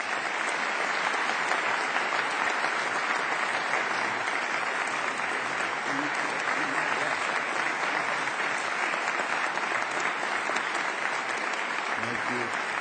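An audience applauds steadily to welcome a speaker to the stage, a continuous, even wash of clapping that holds at the same level throughout without pause.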